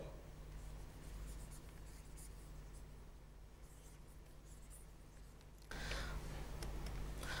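A teacher's chalk or marker scratches across a board in a classroom lesson on arithmetic multiple-choice questions, faint and continuous under a steady room hum, with a louder burst of noise near the end.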